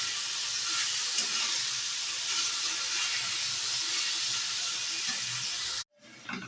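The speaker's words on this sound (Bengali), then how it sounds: "এটা আমি একদম শুকনো করে ভেজে নেব।" Red amaranth leaves dry-frying in a pan with a pinch of sugar, a steady close hiss and sizzle that cuts off abruptly near the end.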